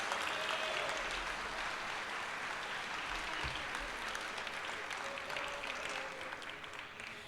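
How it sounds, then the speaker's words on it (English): An audience at a miniatures-painting awards ceremony gives sustained applause for the silver medal winners, an even roar of clapping that slowly fades toward the end. "Round of applause for the Silver Ordnance."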